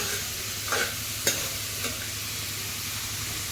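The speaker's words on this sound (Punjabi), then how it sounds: "ਇਦਾਂ ਫਰਾਈ ਕਰ ਲਾਂਗੇ ਹਲਕਾ ਹਲਕਾ ਭੁੰਨ ਲਾਵਾਂਗੇ ਇਹਨੂੰ ਇਦਾਂ" Pumpkin curry fries steadily in a pan with a continuous low sizzle, broken by a few short scraping stirs of a spoon; no voices.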